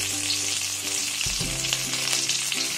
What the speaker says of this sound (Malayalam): അതും ഈ കറിവേപ്പില ഒന്ന് ഫ്രൈ ആവണം, ഒന്ന് ഇളക്കി കൊടുക്കാം